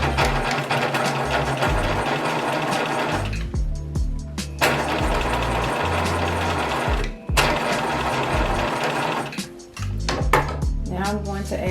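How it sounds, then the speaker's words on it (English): A sewing machine runs in steady bursts while top stitching fabric beside a zipper on a pet waste bag holder, with a few short pauses between runs where the motor stops before starting again. "Top stitch here just to keep the zipper from rolling back to the inside."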